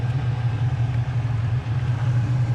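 A 1939 Chevy street rod idles with the air conditioning running, a steady, loud low engine hum that holds evenly throughout.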